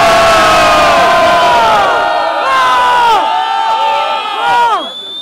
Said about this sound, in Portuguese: Barulho pra Johnny, Botafogo